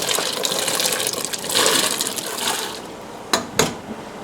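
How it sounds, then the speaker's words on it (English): Carrots and turnips are dropped into a pot of boiling water, giving a steady bubbling, rattling wash of water and then two sharp, close splashing plops near the end. "I'm going to drop these in the boiling water and bring them up to a boil"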